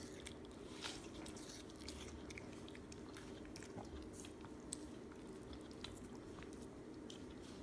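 A shih tzu eats watermelon up close, giving soft, wet biting and chewing with small crunches in a steady rhythm, faint and with no talking.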